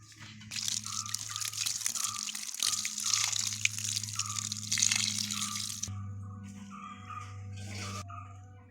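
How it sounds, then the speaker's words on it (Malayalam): Water pours onto a newly potted Hemigraphis plant, a steady close splashing and trickling into soil that shifts tone partway through, with a low hum underneath. "അപ്പോൾ നമുക്ക് നന്നായിട്ടൊന്ന് നനച്ചു കൊടുക്കാം"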